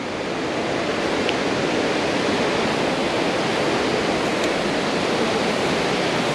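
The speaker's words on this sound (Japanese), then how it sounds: "これが1個目の滝。" The first waterfall of the Akame 48 Waterfalls roars in a constant, dense rush of falling water, steady and loud with no pauses or other sounds.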